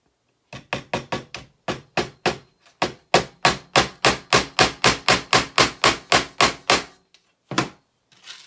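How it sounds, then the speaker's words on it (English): Steady hammer blows driving an odd assortment of nails, some at an angle, into scrap wood: a sharp rhythmic series of about two dozen strikes, close and loud, with a short pause before two final taps. "I'm hammering some of these in at an angle too"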